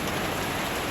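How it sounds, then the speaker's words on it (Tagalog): Heavy rain pours steadily during a hot El Niño spell, a dense, continuous hiss of drops drumming on surfaces close by, loud and unbroken with no voices. "Ulan sa gitna ng El Nino, o di ba?"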